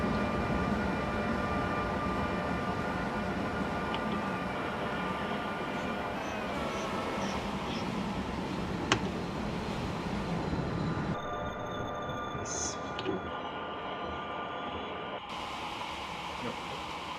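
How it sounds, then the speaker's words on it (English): Train Simulator 2016 train running from Cologne to Düsseldorf, heard as a steady, fairly quiet cab rumble and hum with a sharp click midway and a slight shift in tone later. "These trains are actually much more quiet than inside real life."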